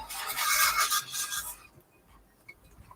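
Sandpaper rubs briskly against a surface for about a second and a half, a close, dry rasping scrape that stops abruptly and leaves near silence with a faint tap.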